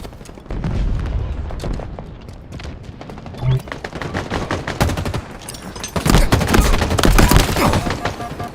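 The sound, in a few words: gunfire in a shooter video game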